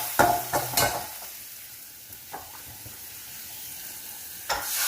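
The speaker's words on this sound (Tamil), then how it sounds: "நல்லா வதக்கிக்கணும்" Green chillies and spices stirring and sizzling in a hot pan, with scraping clinks of a utensil near the start and end over a steady, soft frying hiss.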